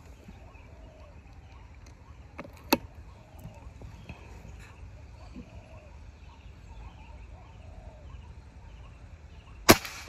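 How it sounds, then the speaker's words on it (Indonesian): An air rifle fires at a target, sounding as two sharp, isolated cracks several seconds apart against a quiet outdoor background with faint bird calls. "Lanjut tembakan keempat."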